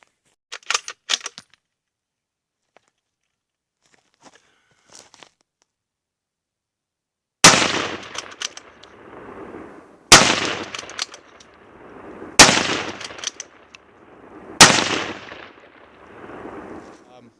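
Four sharp rifle shots from a gun fitted with an MDT LSS chassis and fired with cheap ammunition, each a loud crack with a decaying echo, spaced a couple of seconds apart, after faint clinks and handling noises.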